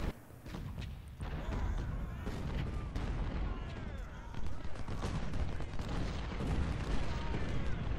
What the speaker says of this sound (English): Look at all the exploding shells on the fortification